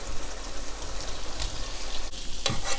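Garlic shrimp sizzle steadily in a hot pan, a continuous close frying hiss with brief scraping stirs as the pieces are tossed through thickened sauce.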